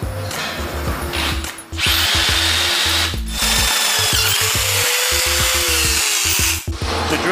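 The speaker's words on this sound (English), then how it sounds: "Next, we use a half inch bit to drill out the plug weld holes." Half-inch bit in a power drill cutting out plug weld holes in a Harley bagger frame neck, a loud grinding whine in several close bursts separated by brief pauses, no voices.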